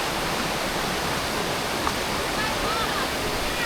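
A Lombok jungle waterfall rushes in a steady, dense roar that fills the whole stretch evenly, close and loud with no breaks.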